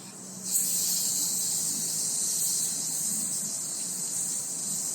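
Marinated pork adobo hits a hot grill and sizzles at once into a loud, steady hiss that holds evenly and fades only slightly toward the end.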